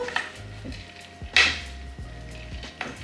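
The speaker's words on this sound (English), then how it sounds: "Give it a big stir" A big stir of a salad with dried cranberries and feta brings close, irregular clinks and scrapes of a utensil against the bowl, with one sharper knock midway and no talking.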